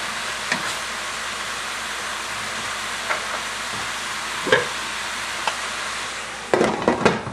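Mushrooms and onions sauté in a pan for an Italian mushroom ragu, with a steady loud sizzle and occasional scrapes and clinks from stirring, heaviest near the end.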